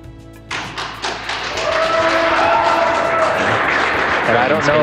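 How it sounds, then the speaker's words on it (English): Mission control staff break into applause as the SpaceX Crew-1 Dragon capsule Resilience splashes down: a few scattered claps and thumps swell into steady crowd clapping, heard beneath a voice talking. "I don't know if you can hear the applause"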